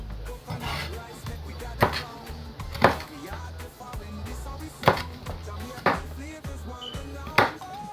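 A short knife chops food on a board in a home kitchen while cooking Jamaican stew peas, with sharp evenly spaced strokes about once a second, fairly close and clear.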